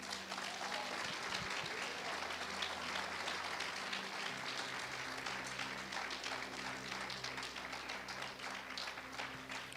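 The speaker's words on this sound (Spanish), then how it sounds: "Denle un aplauso al Señor." A church congregation at a baptism sermon applauds, continuous crowd clapping throughout with a low sustained organ or keyboard tone running underneath.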